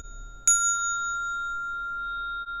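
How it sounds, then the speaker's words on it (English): A meditation bell is struck once gently, giving a clear, bright ring that rises sharply and then hangs in a long, pure sustained tone in a quiet room. "I will use the bell and I will just hit the bell"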